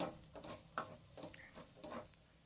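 Spice powder frying in a pan while a spoon stirs it, giving a soft, steady sizzle with scraping strokes in an otherwise quiet kitchen.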